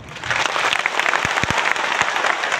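An auditorium audience at a coaching-class meet-up in Patna bursts into loud, sustained applause, dense clapping throughout.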